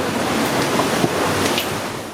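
Ocean waves slap steadily against a sailboat punching straight into moderate seas in the Gulf Stream on a passage to Bermuda, a continuous broadband wash with a few sharper splashes and no voices.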